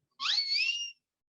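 One clear rising whistle, held for under a second and fairly loud, alone against silence.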